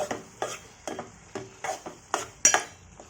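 A tomato curry is stirred in a pot, a spoon scraping and knocking against the metal about eight times in a steady rhythm. The strokes are close and fairly quiet, with a light bubbling sizzle between them.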